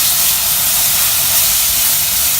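Tomatoes hitting a hot pan of lentil, rice and vegetable khichdi throw up a loud, continuous hiss that holds steady throughout.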